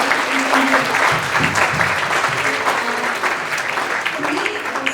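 Audience applause fills a university HR symposium hall, dense steady clapping throughout with faint voices mixed in beneath it.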